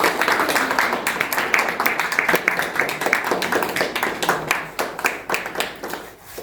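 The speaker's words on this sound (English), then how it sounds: "Should we give a round of applause?" A room of guests at a book launch in Coventry gives a rhythmic round of applause, near and fairly loud, with some voices mixed in.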